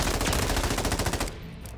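Rapid automatic gunfire from an M13 rifle in a first-person shooter video game, a loud, fast, evenly spaced burst of shots that stops abruptly after about a second, leaving a faint tail.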